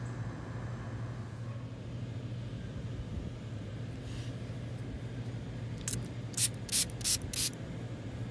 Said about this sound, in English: let me spray this off.